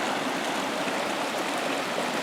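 Close, steady rushing of a little creek spilling down into a larger river in a wooded valley, an unbroken broadband water roar without any talking.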